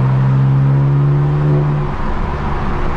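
A BMW M4 fitted with an AWE track exhaust revs loudly and close up, a steady deep droning roar with a rising tone that holds, then settles back.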